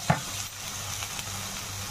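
Vegetables with salt, turmeric, cumin, coriander and chilli powder fry in a pan, giving a close steady sizzle, with a sharp scrape of a spoon stirring at the start and another light clink later.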